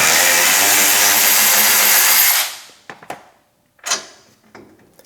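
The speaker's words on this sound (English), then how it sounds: "just spin it out with the electric ratchet" An electric ratchet spins a bolt out of a truck's wheel hub with a loud, steady whir for about two seconds, then winds down, followed by a few faint clicks and light metallic clatter.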